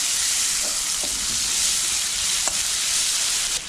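Finely chopped onion sizzles steadily in hot oil with asafoetida while masala sundal is cooked, a continuous close frying hiss broken by a few faint stirring clicks.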